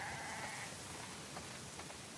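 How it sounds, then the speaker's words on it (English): Sheep bleat faintly inside a snowy barn in the video game The Last of Us Part II, a few soft calls under steady rain-like ambience, with no talk. "Wow, that's a lot of sheep."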